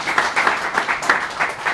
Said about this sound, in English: So big clap for that